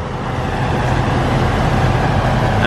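A John Deere 7450 Pro Drive forage harvester arrives at a maize harvest, giving a loud, continuous low engine rumble with no speech over it.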